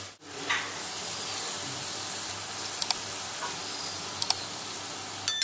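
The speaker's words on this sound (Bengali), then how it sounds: "চিংড়ি মাছটা নুন হলুদ মাখিয়ে হালকা করে ভেজে প্রথমে তুলে রাখবো" Prawns coated in salt and turmeric fry in oil with a continuous close hiss and sizzle, broken by a few sharp clicks of a utensil against the pan.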